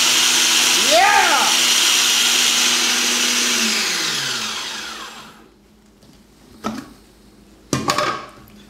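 A blender pulses aioli in a kitchen, a loud whirring roar that drops in pitch as the motor winds down, followed by a few short sharp bursts of renewed pulsing, close and dominant.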